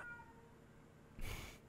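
A house cat meows once, a short, fairly close cry near the end over quiet room tone in an ASMR recording.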